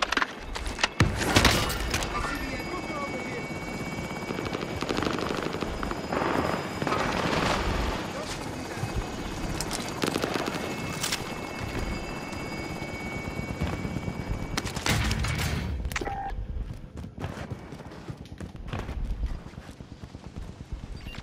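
Helicopter rotor noise in Call of Duty: Modern Warfare, a steady broadband whir lasting throughout, mixed with gunfire bursts, explosions and other battle effects.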